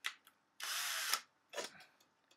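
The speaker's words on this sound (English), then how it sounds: "I can drill into my floor." Power drill boring holes while building a basic solar oven, heard as a few brief bursts of whirring, one lasting about half a second and others much shorter, close but fairly quiet with pauses between.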